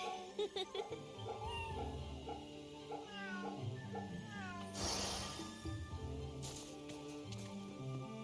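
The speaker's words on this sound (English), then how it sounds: "Pet the cat to get healing." A cat in Fate/Samurai Remnant meows repeatedly while being petted, several clear rising mews over soft game music, with a brief burst of noise midway.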